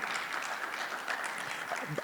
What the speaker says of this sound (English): The clap seems to be scattering.